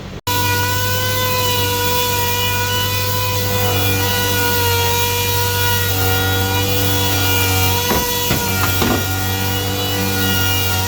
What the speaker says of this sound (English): So we're gonna sand that down and continue.